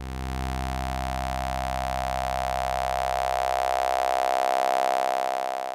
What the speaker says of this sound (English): I'm sweeping the filter's output from low pass to high pass.